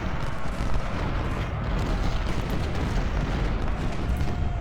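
Dense, continuous roar of artillery and musket fire in a Civil War battle in the video game Ultimate General: Civil War, a loud wall of overlapping shots and booms with no break.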